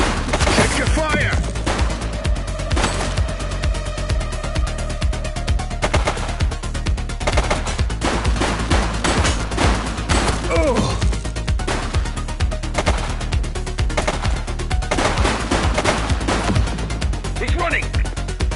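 Gunfire in the police video game The Precinct, with sustained machine gun bursts and scattered single shots rattling loud and dense throughout, mixed with shouted voices.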